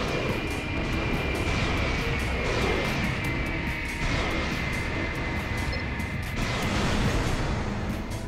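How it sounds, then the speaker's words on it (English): Aircraft drone steadily overhead in the PS2 mech game Armored Core: Silent Line, a loud continuous engine rumble and whine with mixed game noise underneath throughout. "Lousy planes."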